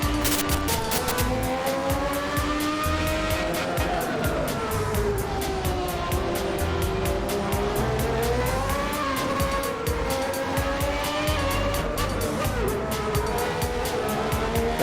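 A 1994 V12 Formula 1 car racing in the Assetto Corsa video game at a German circuit, its high engine wail rising and falling steadily through gear changes, loud and continuous throughout, with occasional tyre squeal.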